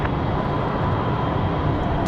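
Steady, loud roar of an airplane landing at Raleigh Durham airport, a broad rumbling engine wash holding constant without a break.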